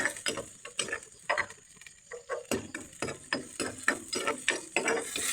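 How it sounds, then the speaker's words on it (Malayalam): Spoon scraping and stirring tomatoes in a cooking pan, a steady series of rhythmic scrapes and clacks close up, with no talking. "ഇത്രയും തക്കാളിക്കും കൂടി ഇട്ട് കഴിഞ്ഞ് ഞാനൊന്ന് ഇളക്കി കൊടുക്കുകയാണ്"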